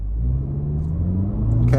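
A 2023 Toyota Camry LE pulling away from a stop in normal mode, its engine drone rising steadily in pitch as it accelerates, heard close from inside the cabin and loud throughout with no talk.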